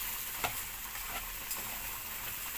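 Rice and vermicelli fry in a pan for koshari, giving a faint, steady sizzle close by, with a few soft ticks and stirring clicks and no voices.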